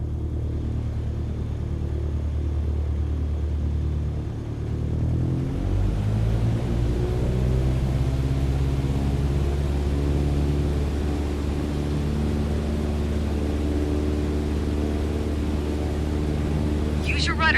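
Aircraft engine spooling up to full power for takeoff in Microsoft Flight Simulator 2020, a steady drone that swells into a deep, rising roar with climbing harmonic tones, loud and sustained, with a voice talking over it.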